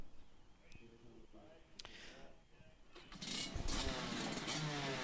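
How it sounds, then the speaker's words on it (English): Race car engines fire up on a starting grid, faint at first under commentary, then a louder burst of several engines catching and idling together in the last seconds. "So the engines fire up into life"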